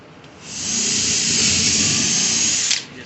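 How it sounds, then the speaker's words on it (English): A power drill whines steadily as it bores through a wooden board, spinning up, holding a high buzzing pitch for a couple of seconds, then stopping. "I'm just going to drill right through on my board."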